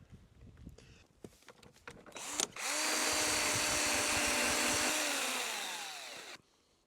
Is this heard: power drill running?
yes